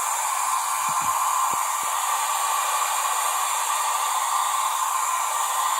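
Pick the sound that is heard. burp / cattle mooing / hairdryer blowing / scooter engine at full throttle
hairdryer blowing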